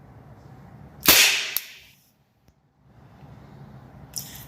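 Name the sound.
gunshot fired from a CZ Shadow 2 pistol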